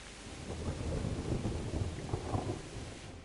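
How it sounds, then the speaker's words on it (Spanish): Heavy rain pours steadily in the medieval game Kingdom Come: Deliverance while low thunder rolls underneath, a dense continuous wash of storm sound with no talking. "la que está lloviendo, tío"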